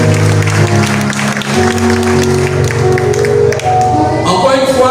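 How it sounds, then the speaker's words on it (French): Warm audience applause for graduating laureates at a modern art school graduation ceremony, steady and loud throughout, mixed with sustained tonal music. "je vous demande d'applaudir très chaudement les lauréates."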